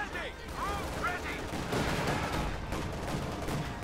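Rifle fire and grenade blasts in the real-time strategy game Company of Heroes 2, with Volksgrenadier rifles popping in rapid bursts amid constant battlefield din while a commentator talks over it.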